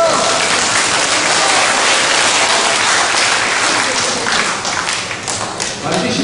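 A lecture audience applauds, a dense, loud wash of clapping that carries on throughout and eases a little toward the end.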